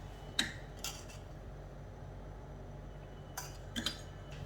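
A metal tadka pan set down on a stove burner in a home kitchen, a few faint clinks and scrapes of metal against the grate, spaced apart over a quiet background.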